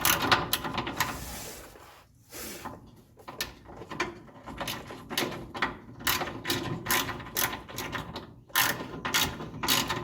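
Ratchet wrench snugging up the pan bolts on a TH350 automatic transmission, a series of close, crisp clicking bursts with short pauses between strokes.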